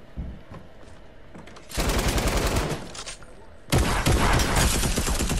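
Bursts of rapid submachine gun fire from a new SMG in Fortnite, loud and close, with one long burst then another after a short gap, with scattered quieter shots and game sounds between.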